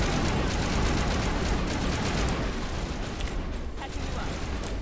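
Assault rifle fire in the sci-fi shooter Mass Effect, heard as a dense, sustained rattle of rapid shots that continues steadily throughout, loud and close, with crackling mechanical clatter mixed in.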